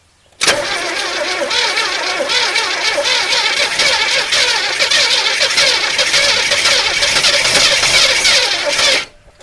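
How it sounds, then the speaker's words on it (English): Starter motor cranking the engine of a 1981 Chevrolet El Camino that sat on a trailer for 21 years, a steady, loud, continuous whirring grind lasting about nine seconds without catching, then stopping abruptly. "the starter wants to die on me"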